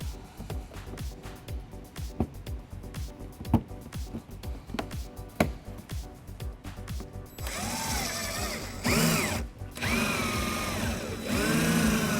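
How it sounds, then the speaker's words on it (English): A power drill with a small bit drills out plastic rivets on a 2011 BMW X5, biting in rapid short ratcheting pulses, then whining at a steady high pitch with rising and falling tones as it cuts through. "we're going to drill out the center of it using a small drill bit"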